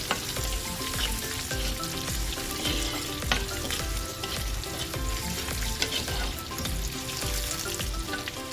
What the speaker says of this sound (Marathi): यामध्ये लसूण भरपूर असेल तर ही भाजी खूप छान आणि सुरेख लागते. छान फ्राय करून घ्यायचं आहे.